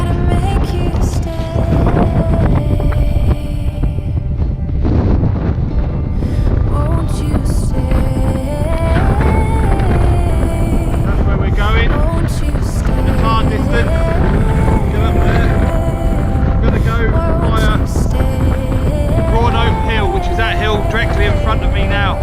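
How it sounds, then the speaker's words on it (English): Strong wind roars steadily across an open hilltop trig point in the Cheviot hills, a loud, continuous buffeting rush on the microphone, with a voice speaking intermittently beneath it. "If you can hear me over the wind, it's a bit blowy"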